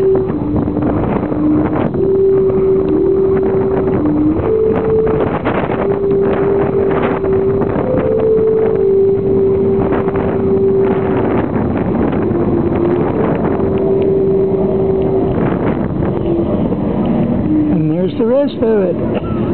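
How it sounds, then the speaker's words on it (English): Wind whistles through the tandem slide rail of a semi trailer, a loud sustained tone that shifts pitch in steps over steady rushing wind noise, with a voice talking over it. "the wind's blowing through there and making the tune"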